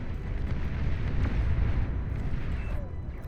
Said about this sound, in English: Persecutor cannon firing away though at a lot of the stuff that's just standing still over here